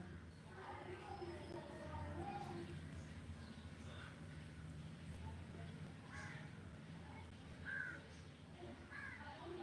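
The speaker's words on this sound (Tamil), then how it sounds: "காக்கா சவுண்டு, அப்புறம் 2 வீலர் போகிற சவுண்டு, இதெல்லாம் கேட்கும்." Faint, distant crow caws now and then over a low background hum and murmur of outdoor noise.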